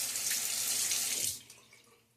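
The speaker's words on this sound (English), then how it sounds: "Let's rinse out my razor." Water runs steadily from a bathroom tap as a shaving razor is rinsed under it, a close broadband hiss that cuts off after about a second and a half, leaving only faint drips and quiet room tone.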